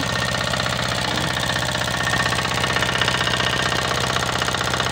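A small engine pumping water out of a pond runs steadily with a fast, rhythmic knocking chug, loud and close, unchanging throughout.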